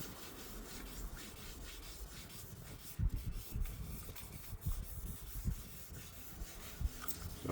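Sanding on a car body panel makes a faint, continuous rubbing rasp with irregular soft bumps and strokes, close by with no voices.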